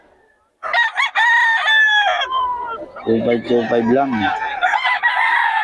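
Roosters at a Bocaue gamefowl yard crow loudly and close after a moment of quiet, with lower clucking and gurgling calls following, and someone speaks briefly at the start.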